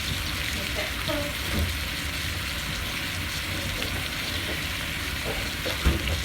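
Red onions sizzle in a pan for smothered pork chops, with a dense, steady frying hiss close by and a few faint knocks of a stirring utensil.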